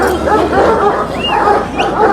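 Kangal Anatolian shepherd dogs barking at a crowded outdoor breed festival and competition, several dogs giving repeated overlapping barks and yips, fairly loud and close, with some whimpering mixed in.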